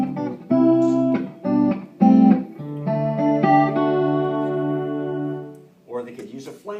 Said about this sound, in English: You just push a button if you want a pretty sound, like a chorus kind of sound.